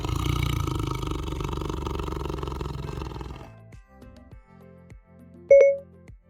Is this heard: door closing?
no